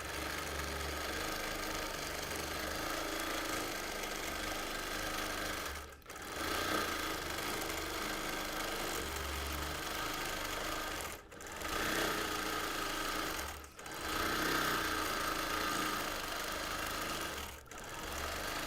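A sewing machine free-motion stitches flame shapes onto a T-shirt quilt, a fast steady whirring hum running close and loud, broken by three brief pauses where the needle stops and restarts.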